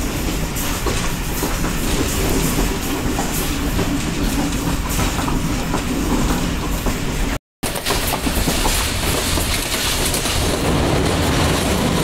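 Shalimar Express passenger train rolling through Shorkot Junction in Pakistan, a steady, loud broadband rumble with rhythmic wheel clatter and rattling carriages throughout, heard from onboard and briefly cut off near the middle.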